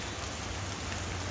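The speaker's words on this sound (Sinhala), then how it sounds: "මේ දවස් ටිකේ ඉතින් හැමදාම හැම දිගට වහිනවනේ" Steady rain falls on a rainy day in Sri Lanka, making a dense, even hiss of drops that continues without a break through the short stretch, with no voices.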